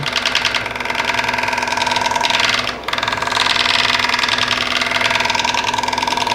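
A wood lathe turns a heart-shaped natural-edge walnut bowl with voids, giving a steady motor hum and whir with a brief dip near the middle, and no voices are heard.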